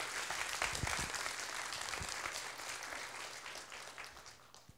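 Applause from a lecture hall audience at an astronomy talk, fairly faint, a dense patter of many hands clapping that slowly fades away over a few seconds.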